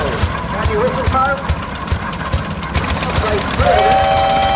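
A 1922 18-horsepower vintage tractor engine chugs steadily in an outdoor tractor parade, its low rumble continuous and fairly close under loud talk from an announcer and crowd noise, with a brief whistle-like tone near the end.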